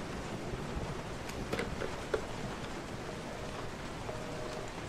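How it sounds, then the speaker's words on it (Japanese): Rain in Resident Evil 7 falls as a steady, soft hiss with scattered faint drips and taps, constant and moderately quiet with no voices. "ミアと合流してからなんでこんな雨降ってんのよ"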